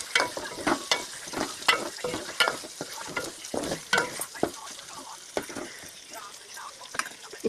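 Chicken frying with ginger and turmeric in a pan, a stirring spoon scraping and clattering in quick irregular strokes over a steady close sizzle, with no one talking.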